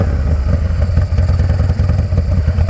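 A motorcycle with an open primary and forward controls idles with choke on after starting, its engine chugging in a loud, steady, slightly uneven low thump close by.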